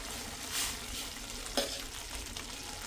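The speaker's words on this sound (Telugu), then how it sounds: "ఇప్పుడైతే మనకి సేమియా ఉడుకుతుంది." Semiya (vermicelli) upma cooks in a pan with a steady, soft frying sizzle throughout and a couple of brief stirring scrapes, all close and with no talk.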